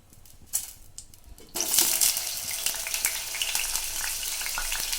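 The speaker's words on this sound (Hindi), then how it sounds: "गरम तेल में मैं ये आलू डाल दूंगी।" Chunks of potato hit hot oil in a pan for a Sindhi-style potato dish with green garlic. A quiet opening gives way to a loud, bright, continuous sizzle that stays close and steady.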